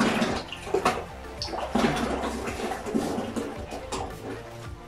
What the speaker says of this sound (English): Let's add a little bit of water